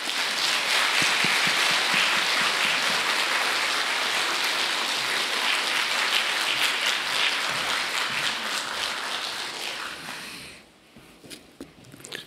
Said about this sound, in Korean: 오늘 나와서 말씀 전하실 때 큰 박수로 환영해 주시기 바랍니다.